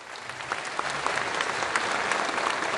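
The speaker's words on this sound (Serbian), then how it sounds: "Aplauz!" A crowd at a Serbian Progressive Party rally in the Raška region applauds, a dense, sustained wash of clapping from many hands, heard from a moderate distance with no talk over it.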